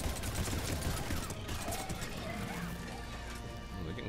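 Mass Effect 3 combat gunfire rattles constantly in dense, overlapping volleys, loud and close, with the battle noise filling the whole moment.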